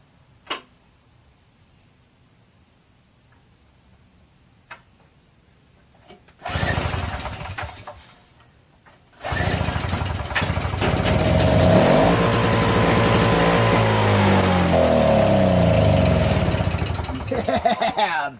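A Tecumseh 5HP engine on an MTD Yardman single-stage snowblower is pulled over, catches briefly, stalls, then starts and settles into a loud, steady running drone close by, with a few faint ticks beforehand.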